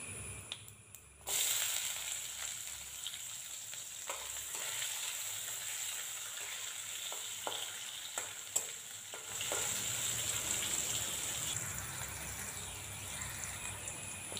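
Onions dropped into hot oil in a pan for a potato and cauliflower dish set off a sudden loud sizzle that holds as a steady, close hiss, with a few light clicks of stirring and no voices.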